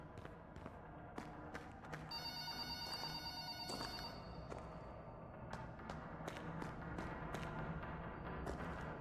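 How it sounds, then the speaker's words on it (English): A telephone rings in the horror game Transliminal: Beyond the Backrooms, a repeated electronic bell tone sounding over game noise with scattered thumps and taps. "I hear another phone call."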